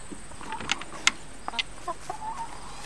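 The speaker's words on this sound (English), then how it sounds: "All I see is that chicken dusting herself." A hen clucks while dust bathing in a backyard coop, giving a few short, scattered clucks over a soft, steady background hiss.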